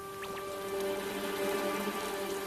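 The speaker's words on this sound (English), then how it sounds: "Just then, some raindrops fell." A light rain patters faintly and steadily, with a few soft raindrops standing out against a hushed background.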